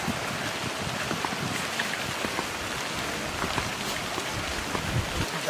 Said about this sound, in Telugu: అరే వర్షం పడుతుంది